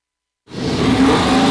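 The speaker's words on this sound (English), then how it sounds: "And the car revs up, speeds away." Sudden onset after silence: a car's engine roars up and whooshes away at speed, loud and close, sustained to the end, at a robotics competition at the Oregon State Fair.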